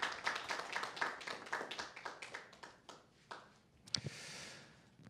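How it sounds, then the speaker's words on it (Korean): A church congregation clapping at a Christian suicide-prevention Sunday service, a modest round of individual hand claps, close and fairly quiet, fading out over a few seconds. "우리 큰 박수 해주시길 바랍니다."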